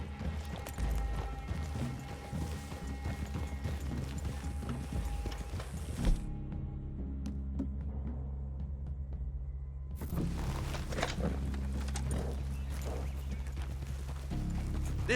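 Horse hooves clip-clop at a steady walking rhythm in Red Dead Redemption 2, near and fairly loud over a low rumbling game soundscape, briefly thinning out midway before the hoofbeats pick up again.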